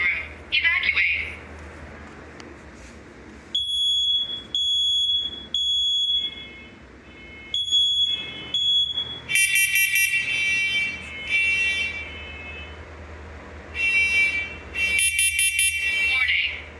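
Newly installed smoke alarms sound during a test, sending out loud, piercing high-pitched beeps in repeated bursts, with a synthesized voice giving warnings between them.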